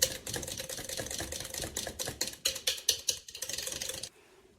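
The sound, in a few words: whisking coffee butter body scrub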